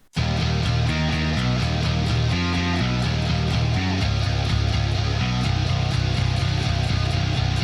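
A heavy electric guitar riff from the bridge of a song plays loud and dense, with chugging low power chords in a rhythmic pattern shifting pitch throughout, alone without voices.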